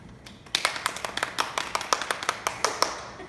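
Three people clap their hands together in a quick, fairly even series of about fifteen sharp, close claps, with no talking.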